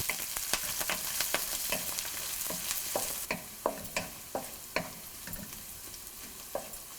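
Shallots, green chilli, curry leaves and dried chilli sauté in hot oil for cauliflower thoran, a steady sizzle broken by repeated sharp scrapes and knocks of a stirring spoon against the pan.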